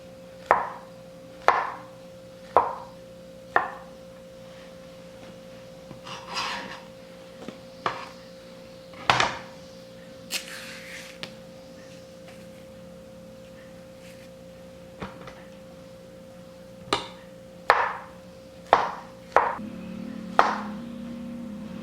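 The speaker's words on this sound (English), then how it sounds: "You can see how I'm slicing them. I'm slicing them diagonal." A knife cutting diagonally through bananas on a board for a no-bake banana cream pie, sharp clear taps in irregular clusters of a dozen or so, close and distinct over a faint steady hum.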